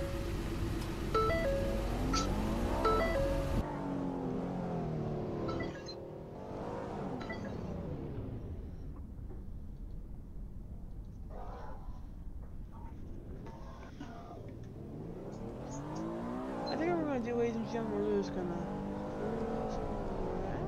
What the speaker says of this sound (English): I'm gonna drive a white F-150.